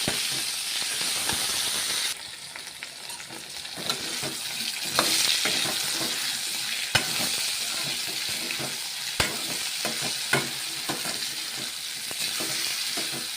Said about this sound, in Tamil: கோவக்காய் கொஞ்சம் வதங்கிருக்க நேரம்ல நல்லா வதங்கட்டும்.